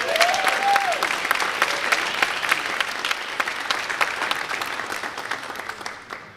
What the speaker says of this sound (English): We can give our president a round of applause.